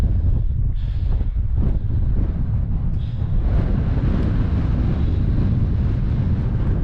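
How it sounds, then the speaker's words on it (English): Strong wind gusts roar across an exposed fell-top hilltop in the Lake District near Carrick Fell, a steady, loud buffeting rumble hitting the microphone throughout with no voices. "bit breezy up here"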